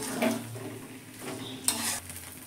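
Sour yogurt is stirred into spices in a frying pan, heard as quiet scraping stirs and a soft sizzle, with a metal clink near the end; no voices.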